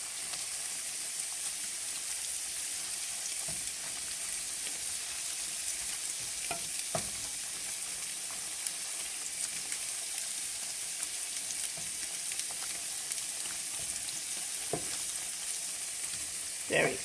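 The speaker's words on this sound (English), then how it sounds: "move our tofu around just a little bit more. Make sure that it doesn't burn" Tofu frying in a pan: a soft, steady sizzle runs throughout, broken by occasional scraping clicks as it gets stirred, with no voices.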